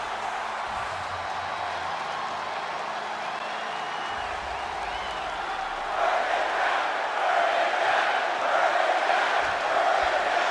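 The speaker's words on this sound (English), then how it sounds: "Capacity crowd here tonight in Boston." Arena crowd in Boston inside a WWE wrestling video game, a distant murmuring roar that swells louder and more excited partway through, cheering and whooping at a steady din.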